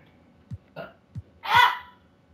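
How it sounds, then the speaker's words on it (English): A person burps close by: a few short throaty clicks lead into one louder, rougher belch. "I'm gonna burp."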